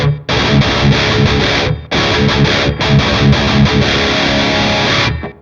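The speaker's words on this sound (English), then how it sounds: "Reverb with various, you know, modes. This is Studio A. Let's make it a little bit more obvious." Distorted electric guitar through a Captor X amp with its Studio A reverb mode, heavy chugging riffs in loud bursts separated by brief gaps where a roomy tail rings out.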